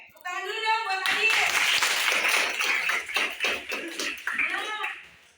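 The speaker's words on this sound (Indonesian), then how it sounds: "Oke, tepuk tangan dulu dong buat Adit." Schoolchildren in a classroom clap for a classmate: a voice first, then a burst of lively group hand clapping that carries for several seconds, thinning out as a voice returns near the end.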